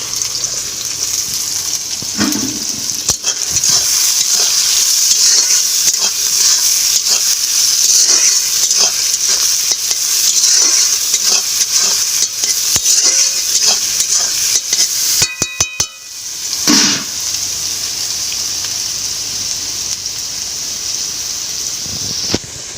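Onions and green chillies fry in oil for a chicken curry, a loud, close, continuous sizzle with scraping stirs, briefly interrupted by a clatter before the hiss resumes.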